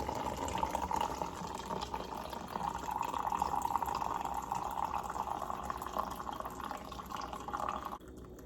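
Coffee pours from a French press in a steady liquid stream, a soft trickling splash that runs for several seconds and then stops abruptly.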